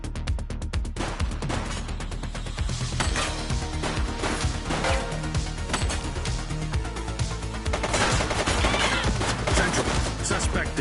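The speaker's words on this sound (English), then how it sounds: "She's shooting!" Gunfire in The Precinct police game, dense rapid shots and crashes over a steady loud action soundtrack, with brief shouted voices.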